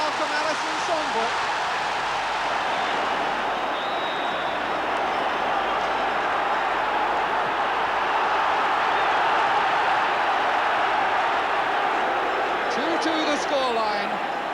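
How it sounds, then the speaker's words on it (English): A football stadium crowd at Manchester City v Manchester United roars continuously throughout, a loud, unbroken wash of massed noise with a commentator talking over it. "difficult to hear yourself think above this crowd now"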